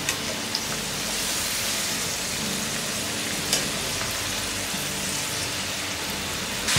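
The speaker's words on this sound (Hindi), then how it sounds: "अब हम इसका फ्लेम बढ़ाएंगे और हाई फ्लेम पे इसे 5 मिनट तक और फ्राई करेंगे।" French fries deep-frying in hot oil over a high flame give off a steady, dense sizzling hiss with scattered crackles and pops, close and continuous without talk.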